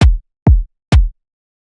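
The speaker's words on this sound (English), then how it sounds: "Our whole rim shot just sounds like this by itself" Three dry rim shots from a melodic house drum pattern, each a sharp crack with a short low thump, landing evenly on the offbeats about half a second apart with nothing else playing.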